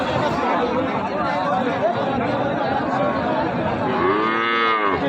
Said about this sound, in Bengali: চারদিকে প্রচুর পরিমাণে গরু আমদানি